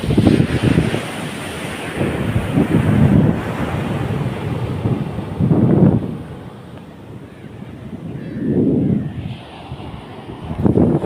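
Surf at Alappuzha beach rolls in as repeated waves breaking every few seconds under steady gusting wind that buffets the microphone, with no talk.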